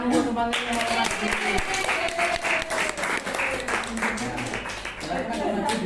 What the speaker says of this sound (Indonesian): tepuk tangan untuk teman-teman yang mau maju